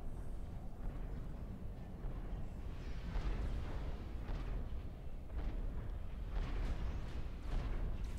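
Low, rolling explosions from bombing runs in the strategy game Supreme Commander 2 thud and rumble fairly faintly, one blast after another in a continuous muffled barrage.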